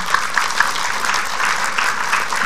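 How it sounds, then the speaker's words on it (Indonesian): Studio audience of an Indonesian health talk show applauds, a thick, even wash of clapping that holds steady and loud throughout, with no talking on top. "tepuk tangan buat Vega"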